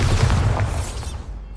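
A Bombarda blast spell goes off in Hogwarts Legacy on PS5: a loud, close, rumbling boom with a crackling burst that fades over about a second and a half, with no voices.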